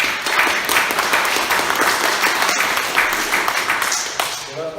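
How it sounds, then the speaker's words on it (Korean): Applause from a church congregation during a Sunday worship service at a Korean Methodist church: a dense, steady wash of many hands clapping, fairly loud and sustained throughout, with a few voices mixed in. "박수 한번 다시 한번."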